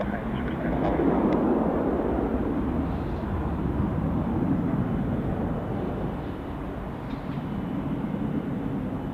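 Airbus A350 taxiing toward runway 32 at Zurich Airport, a steady low jet-engine rumble and whine held at a constant level at some distance, with a voice talking over it.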